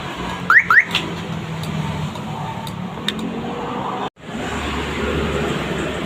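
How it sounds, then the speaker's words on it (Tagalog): A car alarm chirps twice in quick succession, followed by a low steady hum and a brief dropout before the hum resumes. "para malaman yung paano i-testing yung alarm"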